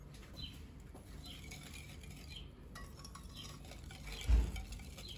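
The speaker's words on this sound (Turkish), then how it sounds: "Yine bir güzel çırpıyorum." Cocoa soufflé batter is whisked in a bowl at home, giving a faint, continuous stirring and scraping. One louder knock or clink of the utensil against the bowl comes near the end, and no voices are heard.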